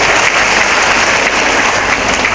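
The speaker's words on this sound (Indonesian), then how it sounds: "Tepuk tangan untuk Bengkulu Utara" Dense, continuous applause from a crowd at an Isra Mi'raj gathering in a grand mosque, a steady wash of clapping from start to finish.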